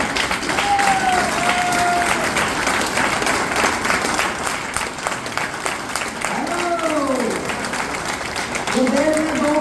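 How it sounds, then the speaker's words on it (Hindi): An audience at a training program seminar claps loudly and steadily, a dense continuous wash of hands close by, with voices calling out over it near the end. "एक बार ताली बजा सकते हो।"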